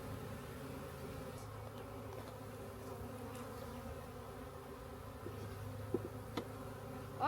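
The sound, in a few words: bees buzzing from a bee package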